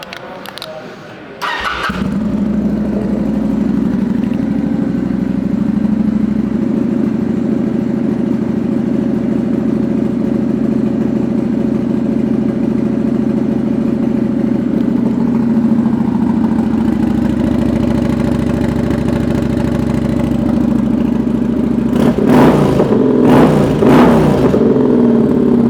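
A pre-owned 2009 Kawasaki Vulcan 900 Custom motorcycle starts up near the beginning and settles into a steady, close, loud idle with a low rumble, then gives a few brief revs near the end.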